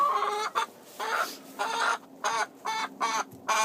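White Leghorn hens cluck in quick, close bursts as they step out of the coop on a cold day, a run of short rhythmic calls separated by brief pauses.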